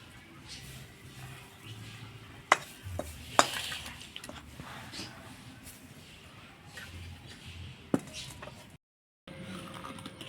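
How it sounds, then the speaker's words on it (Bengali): Date palm jaggery melted with water boils and is stirred in a pan, giving a faint bubbling simmer with a few sharp spoon clinks against the pan. "খেজুরের গুড় আমি জাল দিয়ে নিচ্ছি"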